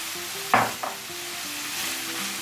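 Onions sautéing in a pan after the minced meat has absorbed its liquid, filling for a Turkish hunter's pastry: a steady soft sizzle throughout with a couple of brief louder stirring scrapes near the start.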